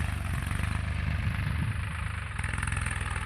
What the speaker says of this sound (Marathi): ट्रॅक्टर आपला चालू आहे तिथं सरी काढण्याचं काम चालू करत आहे